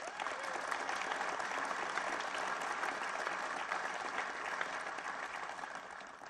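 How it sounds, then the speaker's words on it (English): A crowd at a presidential economic event in Philadelphia applauds union workers with broad, steady clapping that holds evenly throughout and sounds somewhat distant. "give yourselves and your unions a round of applause."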